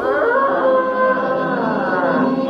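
A voice imitates an old drawer rolling out on its runners, a steady buzzing hum that wavers slightly in pitch for a couple of seconds.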